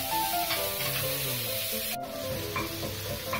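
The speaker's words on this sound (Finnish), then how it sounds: "Laita pekoni ja sipuli pannulle paistumaan." Bacon and onion fry in a pan with a steady close sizzle, mixed with light stirring and scraping noises and a brief sharp knock partway through.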